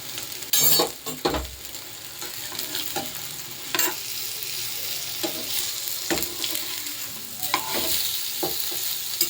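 Rava-coated masala fish frying in a little oil on a tawa over low heat, with a continuous close sizzle broken by sharp spatula scrapes and clinks as the pieces are turned.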